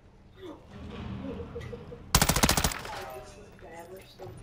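Video game machine gun fire bursts out in a rapid, loud string of about ten shots, preceded and followed by softer game ambience and murmured voices.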